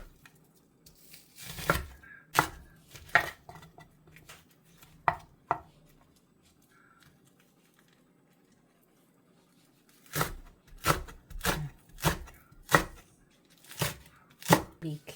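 A knife chops tofu on a cutting board in two bursts of sharp, close, evenly spaced thuds, with a quiet gap between them.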